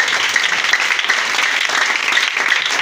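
Church congregation applauding during a sermon, a dense, loud burst of many hands clapping at once, sustained evenly for a few seconds without talk.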